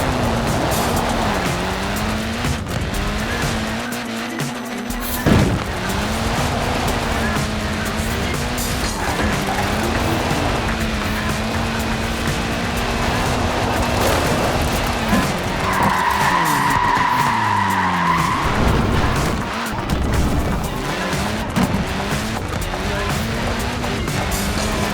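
A classic Mini slides through corners in Forza Horizon 4, its tires squealing in long wavering skids over a loud, constantly revving engine that surges and drops throughout.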